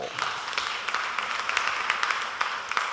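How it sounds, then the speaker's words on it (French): Audience at a children's holiday activity clapping for the Baba Mustapha cultural centre team, a moderate, fairly distant patter of many hands, steady throughout and heard alone. "On les applaudit bien fort."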